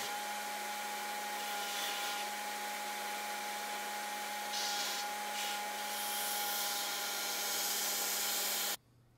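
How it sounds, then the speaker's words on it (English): A belt grinder shapes an epoxied knife handle for a Loveless-style drop point hunter, a steady loud whine with a rasping bite as the handle meets the belt, cutting off abruptly at the end. "I'll head for the grinder."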